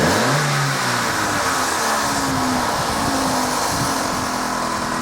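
Close-up Vauxhall Corsa engine with timing-chain knocking revving, climbing briefly in pitch then holding a steady, loud idle-like drone throughout.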